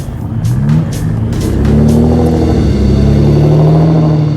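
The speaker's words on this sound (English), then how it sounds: "I hope you can hear me right now above the V12 sound" A V12 in an Aston Martin DBS with a straight-pipe exhaust and no catalytic converters roars loud and close while driving, its deep note climbing as it pulls through gears with a steady, rumbling drone.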